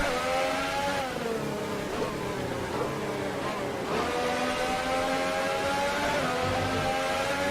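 Mercedes Formula 1 car engine in the racing game F1 2018, a continuous high-pitched whine that rises and dips as it shifts through gears, steady and prominent throughout.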